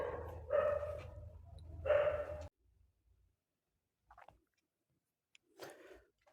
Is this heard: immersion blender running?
no